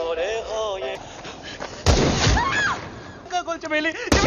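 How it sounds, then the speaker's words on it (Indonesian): Soldiers' gunshots in the film Dunki: a few loud, sharp blasts ring out between stretches of dramatic voices, one heavy burst near the middle and another at the end. "tentara itu langsung menembak Gulab, Bumpy, dan Chameli."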